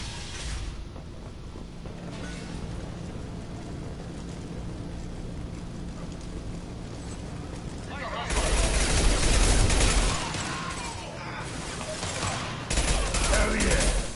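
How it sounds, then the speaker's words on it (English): Gunfire from Blue Suns and Vorcha mercenaries in Mass Effect: Legendary Edition, bursts of rapid shots and fusillades growing louder in the second half, mixed with game ambience and some talk. "Blue Suns and Vorcha shooting anything that moves"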